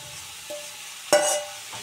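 Vegetables for aloo-begun paturi hit a hot wok (kadai) with a sudden loud sizzle that fades over a second, preceded and followed by soft stirring scrapes.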